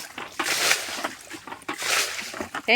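Water splashed by hand in a canal where snakehead fish hide under leaves, two bursts of close splashing sloshes separated by quieter murmuring, ending with a brief high-pitched tonal sound.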